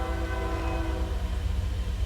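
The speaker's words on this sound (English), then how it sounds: "And here comes the train." A passing train blasts a sustained, loud horn over the steady heavy rumble of rolling rail cars, with no voices.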